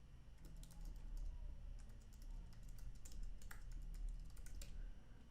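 Fingers tap a computer keyboard in a quick, uneven stream of soft clicks, close but fairly quiet, with no talking over it.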